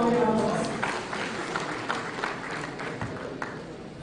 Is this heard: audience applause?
yes